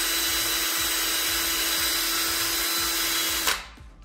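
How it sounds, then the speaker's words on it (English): Power drill boring out a small wooden dowel tip lodged in a broken wood chair joint, a continuous whining grind lasting several seconds before cutting off abruptly. "that piece, you can see, is a little tip of the dowel. So I'm gonna have to drill that out a bit."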